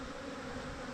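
Dense, steady buzzing of many bees swarming around a large, aggressive beehive, loud and close with no break.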